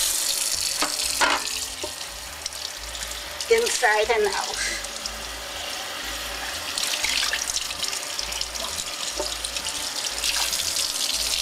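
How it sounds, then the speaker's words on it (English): Running cold tap water splashes steadily in a sink while rinsing a raw chicken for several seconds, as a person says a few words partway through. "wash the chicken thoroughly in cold water"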